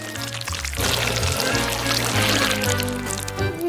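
Liquid chocolate pours down in a video game with a continuous loud gushing splash over game music, lasting a few seconds.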